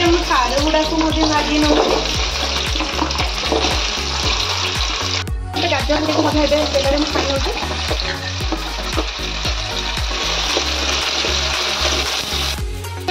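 Pumpkin pieces frying in hot oil give a loud, continuous close sizzle that holds steady throughout, with a brief dip midway, while a person talks over it.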